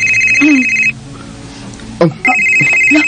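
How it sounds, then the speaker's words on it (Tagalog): Cellphone ringtone chiming loud and close in a repeating electronic pattern, breaking off briefly in the middle while a short voice and a few clicks come through, then resuming. "Yung cellphone. May ring ni Sap."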